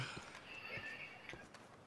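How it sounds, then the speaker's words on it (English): Horse in a train-robbery video game, hooves clip-clopping closer in a steady walking rhythm with a brief whinny, heard against a constant ambient background. "The horse is close enough to come."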